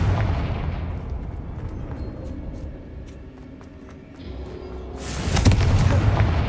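Confringo fire spell exploding in the game Hogwarts Legacy, a deep rumbling blast with a sudden loud burst late on over a low ambient drone.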